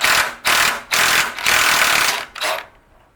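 Rear sway bar link being loosened on a 1996 Toyota 4Runner during a lift install: five loud, close bursts of harsh mechanical whirring, each about a third of a second, separated by short pauses, with the last one shorter and fading.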